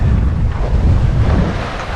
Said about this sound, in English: We've got 11 knots of wind